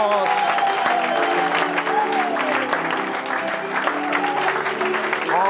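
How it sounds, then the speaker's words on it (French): Church congregation applauding loudly in praise of God, dense continuous clapping from a large crowd with voices mixed in. "Acclame Dieu très fort."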